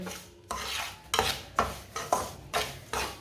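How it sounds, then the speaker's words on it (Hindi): A spoon scrapes semolina around a hot wok with the stove switched off, giving about seven rhythmic rasping strokes at steady intervals, close and fairly loud with no talking. "इसे 1 मिनट तक ना ऐसे ही चम्मच चला लेंगे। कढ़ाई बहुत गर्म है ना, नीचे से सूजी हमारी जल जाएगी ऐसे छोड़ेंगे तो।"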